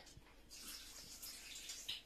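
Water pours onto kidney beans in a kitchen dish, a faint, close splash and trickle that runs for about two seconds with no talking.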